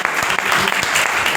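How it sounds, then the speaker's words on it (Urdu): A church congregation at a Sunday service claps loudly, with dense, steady applause filling the whole short moment. "آئیے خدا کے کلام کے لیے زوردار تالیاں"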